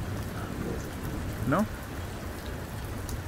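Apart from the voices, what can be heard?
rain during thunderstorm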